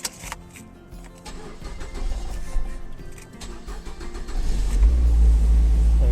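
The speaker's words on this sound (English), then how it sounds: "let's turn the car on" A car engine cranks and catches after a bonnet replacement, first uneven churning, then settling into a loud, steady idle rumble close by.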